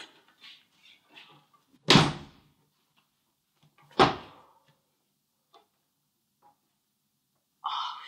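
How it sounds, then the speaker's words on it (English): A door being locked: two sharp, loud clunks about two seconds apart, each with a short ringing tail, surrounded by faint scattered clicks and quiet movement. "Okay, I just locked the door."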